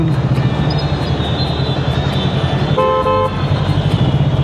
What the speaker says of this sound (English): Absolutely chaotic traffic.